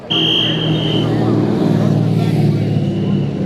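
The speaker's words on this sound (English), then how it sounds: "So the cars are coming out of pit lane" Supercars race cars pulling out of pit lane at Bathurst, a loud sustained engine drone with a high whine early on, heard under nearby talk.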